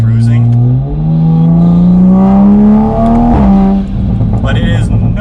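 Toyota Supra with a Magnaflow active exhaust accelerating hard from inside the cabin, a loud rising engine note through the gears with a shift partway and someone talking near the end.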